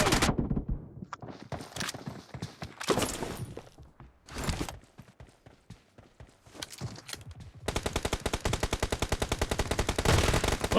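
Gunfire in a BGMI team deathmatch played with shotguns only: a scattering of separate sharp blasts, then a long run of rapid, evenly spaced shots near the end, loud and close.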